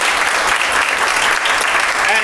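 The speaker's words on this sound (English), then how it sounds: "Please thank them with your applause" Audience applause thanking local business sponsors, a dense, steady wash of many hands clapping at close range, loud and continuous throughout with no pauses.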